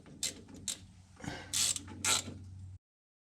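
A hand ratchet tightens the differential cover bolts on a Ram rear axle, giving several short bursts of rapid clicking separated by brief pauses, close and clear with no talking.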